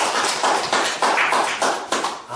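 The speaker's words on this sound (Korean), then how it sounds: "박수 한번 크게 쳐주세요." A church congregation breaks into applause, with many hands clapping together in a dense, steady patter that swells in waves.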